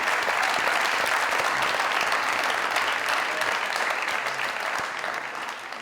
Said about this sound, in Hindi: जोरदार तरीन ताली।